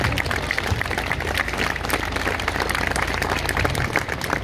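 Sustained applause from an outdoor crowd at a town thanksgiving festival in Italy, dense steady clapping filling the whole stretch at an even level with no break.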